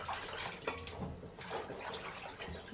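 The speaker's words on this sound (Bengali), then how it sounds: "কাঁঠালগুলো আমি এভাবে ধুয়ে নিই" Jackfruit seeds being washed by hand in a basin of water, a steady splashing and sloshing with small drips, close and moderately loud, with no talk.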